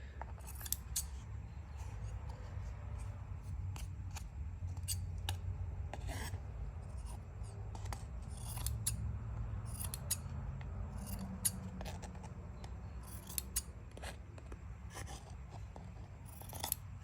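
Scissors trim macrame yarn on a handmade gnome, making a long run of quiet, crisp snips at an irregular pace, close by in an otherwise still room.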